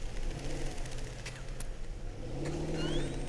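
A Range Rover and a Porsche Cayenne race side by side off road, their engines droning and revving steadily at close range, with a brief higher whine partway through.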